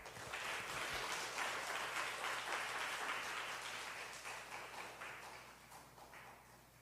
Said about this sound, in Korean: 나오실 때 우리 박수로 우리 환영하겠습니다